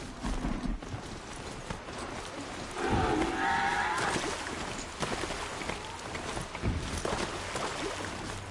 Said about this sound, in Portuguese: Olha lá, mais boi.